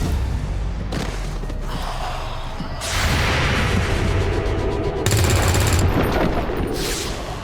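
Gunfire from an Overwatch reaction shot in XCOM 2 comes as loud bursts of game shooting over layered combat effects and rumble, with no talking.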